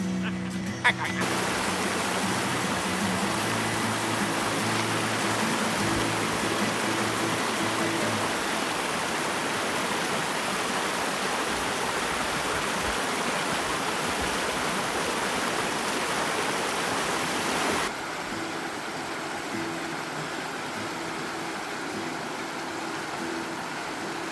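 A creek flows beside a forest trail on the Black Forest Trail, a steady, even rush of water that holds for the whole stretch and drops somewhat in level near the end.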